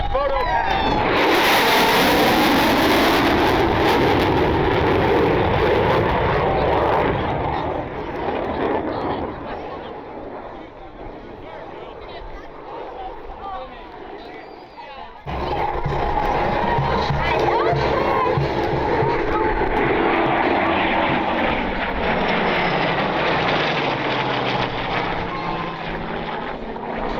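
An F/A-18 Super Hornet on a photo pass at an air show roars by from the right, a loud broadband jet rush that swells, dips midway, then surges again, with a crowd and wind noise around it.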